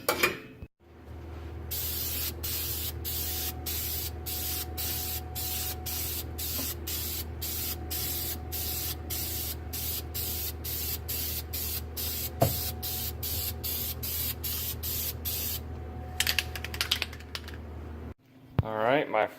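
A long, continuous aerosol spray of undercoating inside a Mazda Miata trunk, hissing in short rapid pulses, close and steady, with a low hum underneath and brief sounds at the start and end.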